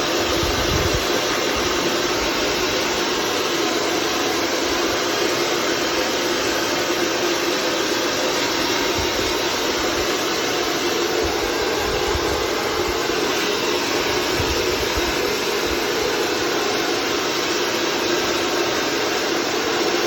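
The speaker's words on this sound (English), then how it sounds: "by using the hairdryer, dry up the air filter." A hairdryer blows steadily on an air conditioning filter to dry it, giving a loud, continuous broadband whoosh with a low rumble that holds unchanged for the full length, with no talking.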